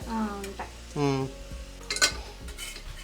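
A ladle scraping and stirring spicy prawn masala for a prawn pulao in a pot, brief metallic scrapes and clinks with a faint sizzle, heard between bursts of people talking close by.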